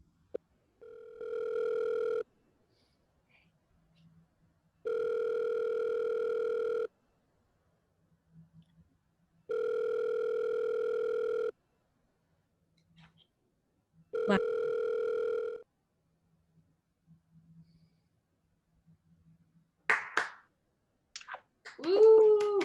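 A telephone ringback tone after a number is dialed on stage: four evenly spaced long rings with silent gaps, followed by clicks and a voice speaking.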